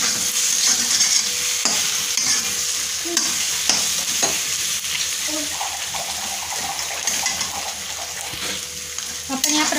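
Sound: eggs frying and being stirred in pan for anda bhurji

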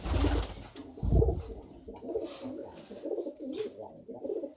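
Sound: pigeons cooing while being fed

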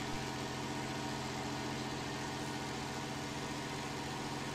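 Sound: slow tractor engine driving in a farming video game

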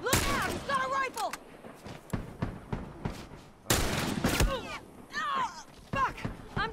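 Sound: rifle gunfire in video game The Last of Us

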